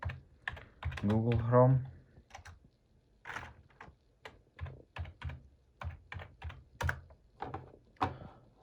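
Irregular, close clicks come from a computer keyboard on a Mac as someone types a short entry, with a spoken phrase early on and scattered keystrokes after it.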